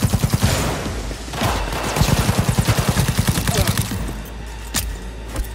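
Rapid bursts of smart pistol fire in the video game Cyberpunk 2077, a dense rhythmic chatter of close shots in two long volleys, with heavy game background noise throughout.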